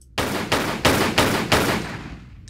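Lara fires a gun in a Tomb Raider custom level, five loud, evenly spaced shots about a third of a second apart, each with a short echoing tail that fades out after the last.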